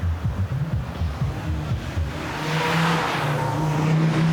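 Race cars climbing the hill at the Goodwood Festival of Speed, heard as a loud engine drone that builds and sustains, with a rising rasp as a car nears and passes close by, no talk over it.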